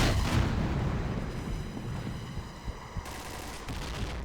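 In the shooter game Point Blank, a grenade explosion roars up front and decays into a sustained rumble of gunfire and blast noise, with a few sharper cracks scattered through.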